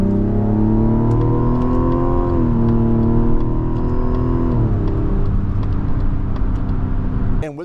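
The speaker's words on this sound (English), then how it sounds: "It has a great natural inline six grunt and sound" Turbocharged inline-six in a 2025 Mazda CX-70 Turbo S with a 48-volt mild hybrid, pulling hard under acceleration: a steady, loud engine drone rises in pitch, dips at a shift, then climbs again, heard alone with no talk.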